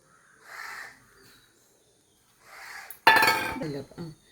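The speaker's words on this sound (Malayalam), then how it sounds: "റവ ഇട്ടിട്ടുണ്ട്. ഞാൻ ഇളക്കി എടുക്കട്ടെ." Semolina (rava) is stirred in a pan with grated coconut, and a sharp metallic scrape and clink of the utensil against the pan comes at the end, close and fairly loud after stretches of faint movement.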